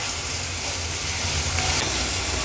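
A large, finely chopped onion sautéing in hot oil for an Agri-Koli style baby shark curry, giving a steady, even sizzling hiss with a low rumble beneath, close and continuous throughout.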